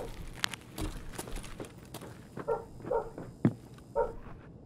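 A dog barks several times in the game Escape From Tarkov, short sharp yelps spaced irregularly over a few seconds, moderately loud with faint footsteps around them.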